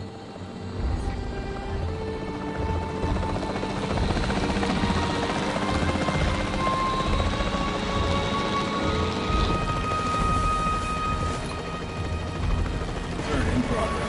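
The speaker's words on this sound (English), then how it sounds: "The priority needs to be tranquilizing it with the capture team chopper." Capture team helicopter in the Jurassic World Evolution 3 video game, a continuous loud rotor drone that holds steady throughout with a dense rumbling whir.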